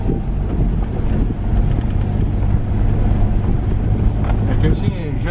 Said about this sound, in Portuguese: Eu vou levantar o vidro por causa do vento